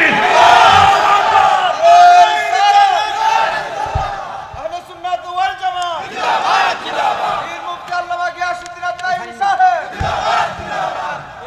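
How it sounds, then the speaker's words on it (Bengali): A large crowd at a Bangla Islamic sermon gathering chants the takbir in loud, repeated unison calls. A leading voice sets off each round, and the massed responses come in rising waves, several in close succession. "আল্লাহু আকবার বলেন সবাই"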